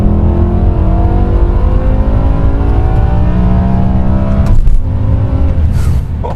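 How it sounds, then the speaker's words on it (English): A 2007 BMW E63 M6 with its V10 engine and carbon fiber M Performance exhaust tips revs hard, climbing steadily in pitch with a loud, close, howling note, then briefly dips and picks up again near the end. "Never gonna hit red line, it just keeps going. It just keeps revving."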